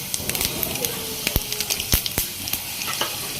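Mustard seeds, chana dal, coriander seeds, cumin and dried red chillies sizzle in hot oil in a pan, giving a steady frying hiss with many sharp crackles and pops from the spluttering seeds.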